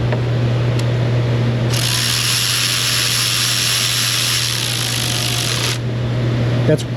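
A ratchet wrench tightens a bolt on a car in a repair shop, making a faint mechanical clicking and grinding under a steady background hum, with a brief sharper sound near the end.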